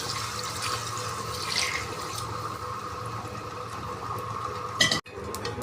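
Water with rice for biryani bubbling at a steady rolling boil in a pot, a dense continuous hiss and churn close by with no talk, ending in a brief clatter.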